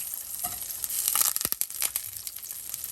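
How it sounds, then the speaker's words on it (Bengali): A piece of butter sizzling in a pan to start a tomato soup, a close, steady crackle with a few sharper pops in the middle and no talking. "টমেটো স্যুপটা রান্না করার জন্য এখানে যে এক পিস বাটার দিয়ে নিয়েছি"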